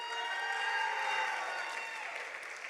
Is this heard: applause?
yes